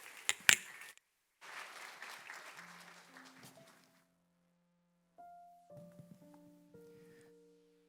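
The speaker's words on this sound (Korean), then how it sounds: "우리는 따뜻한 격려의 박수로 축복해 주시면 좋겠습니다" A church congregation at a Sunday morning service gives a round of encouraging applause for a father about to give a testimony at his baby's infant baptism. The clapping comes in two short bursts and fades, followed by soft sustained instrumental notes.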